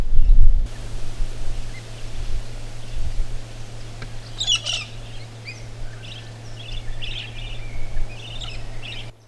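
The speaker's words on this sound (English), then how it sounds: "Spiny-cheeked honeyeater" Spiny-cheeked honeyeater calling in sparse outback scrubland in South Australia, a few bright, short notes and a brief gurgling burst over a steady low hum of background noise.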